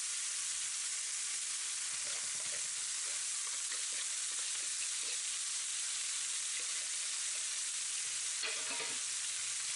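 Herring fillets fry in a pan with a steady, dense sizzle throughout, joined by soft scraping and stirring sounds, close and continuous with no talking.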